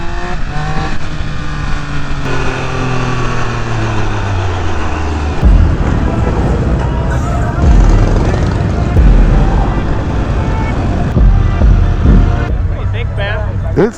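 A Triumph Speed Triple 1200 RR roars under hard riding, with engine pitch sweeping up and down through shifts and wind rush. A rider talks loudly over the engine throughout.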